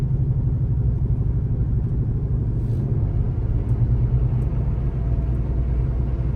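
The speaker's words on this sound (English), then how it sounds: "The revs randomly shot up when they should have gone down as it shifted into third." A Buick Roadmaster's engine rumbles steadily from inside the car as it shifts gears, a continuous low, throbbing drone with the revs rising slightly rather than dropping, and no talk over it.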